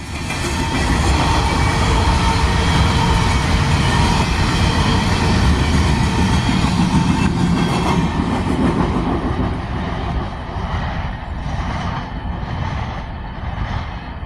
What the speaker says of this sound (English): So after that train went by